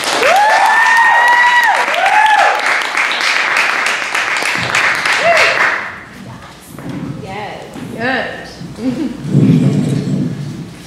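Audience applause and cheering for a comedian at a live comedy show, loud dense clapping with whoops for about six seconds, then fading as the performer starts talking over scattered claps.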